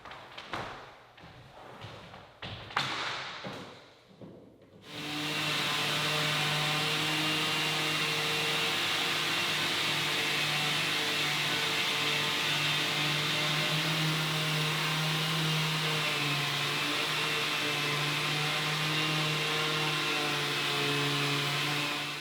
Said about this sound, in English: This time I hooked my shop vac up to the sander